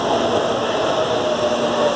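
At Barra Funda station, CPTM commuter train Q124 gives off a steady, continuous rumble and hum while it is being wrapped in advertising. The noise holds at an even level throughout, with no voices over it.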